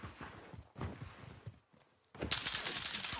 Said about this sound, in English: Start getting shot at from behind.